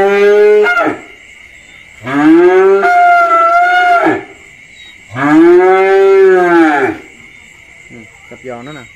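A cow on a cattle farm moos loudly and close by, giving three long, deep, drawn-out calls with quiet gaps between them, over a steady background hum.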